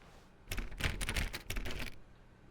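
Keyboard typing in the video game The Stanley Parable: a quick burst of dense, clattering key clicks lasting about a second and a half, close and moderately loud, with no talking.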